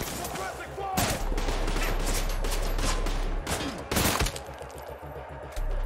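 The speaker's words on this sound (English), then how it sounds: "I got a motherfucking shotgun." Heavy shotgun blasts from the shooter game Trepang 2 boom in a loud, dense run of repeated shots with a thick low rumble, spaced by brief gaps.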